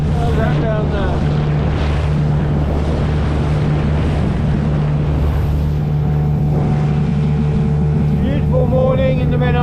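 A two-stroke outboard motor runs on a small boat on the Menai Strait, a loud steady droning buzz with water rush and wind buffeting the microphone for the full length.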